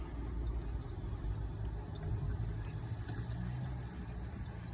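Diesel poured into the engine oil filler of a CityBug car, a soft, steady trickle of liquid, quiet and continuous under a low background rumble.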